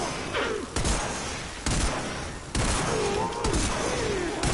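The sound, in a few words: weapon firing in the video game Warframe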